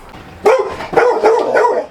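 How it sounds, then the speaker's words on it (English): A dog shut in a crate barks loudly and close, with three or four rapid, sharp barks mixed with whiny yips, and no talking. "So the dog never did quieten down"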